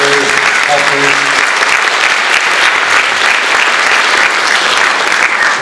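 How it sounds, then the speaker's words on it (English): An audience at a jazz camp concert applauds the teachers with loud, sustained clapping close by. A voice speaks briefly at the start, then the clapping fills the rest. "we can have a round of applause for all the teachers helping"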